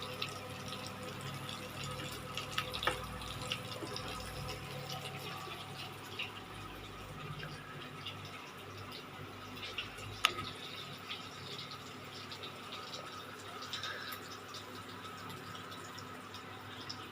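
In a home kitchen, a pot is slowly filled with water for cooking biryani rice, a faint steady trickle and splash running on and on with a few small clinks.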